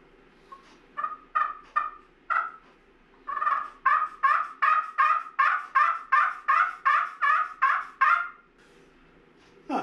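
A homemade slate turkey call scuffed with a striker gives a run of about a dozen rhythmic yelps, starting with a few short calls and then settling into a steady series, close and clear over a faint background hum, with no talking.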